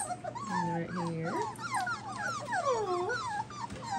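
Four-week-old poodle puppies whimper and yip in a busy litter, overlapping high wavering cries and squeals coming close and continuous, with a faint low hum underneath.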